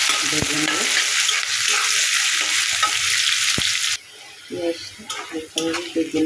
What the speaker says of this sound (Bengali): তেলগুলো ভালোভাবে নেড়ে চেড়ে